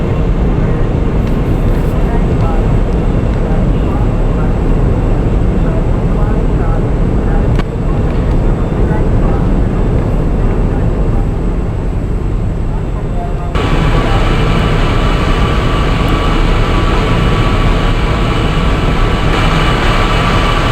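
The Nagercoil Express runs at speed alongside a MEMU train and overtakes it, a loud continuous rumble and rattle of wheels and carriages, the tone shifting abruptly partway through.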